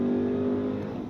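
A 2027 RAM 1500 TRX SRT pickup truck engine roars steadily while accelerating, a loud, sustained low rumble with a constant drone, close and continuous throughout.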